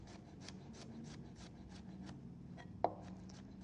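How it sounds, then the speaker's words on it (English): A kitchen knife slices through peeled garlic cloves on a cutting board, giving soft, repeated rubbing cuts close by with one sharper tap near the end. "I'm going to start just by slicing through the garlic."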